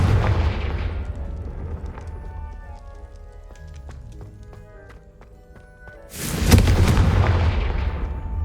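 A Confringo blasting spell explodes in the Hogwarts Legacy video game, a loud low boom that decays slowly, with scattered clicks and a second heavy blast near the end.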